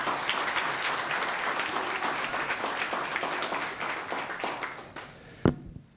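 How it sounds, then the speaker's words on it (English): Audience applause at a town council meeting, a dense burst of clapping from many hands that fades out over several seconds, ending with a single sharp knock. "Let's give him one more round of applause."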